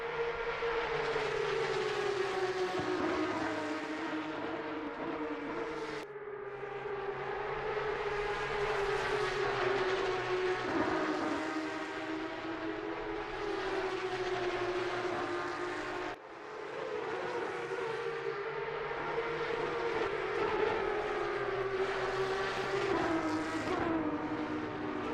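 Porsche Cup race cars at Silverstone in a racing simulator game, a continuous engine drone with gently rising and falling pitch as the cars lap, steady and fairly loud throughout.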